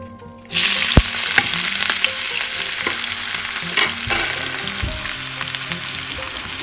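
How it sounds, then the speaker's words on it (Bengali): Chopped onions drop into hot oil and burst into a loud, steady sizzle that continues close by, with a few sharp clinks of a utensil against the pan during the frying. "তো আমার তেলটা গরম হয়ে এসেছে। তো এখন আমি এখানে আমার কেটে রাখা পেঁয়াজগুলো দিয়ে দিচ্ছি।"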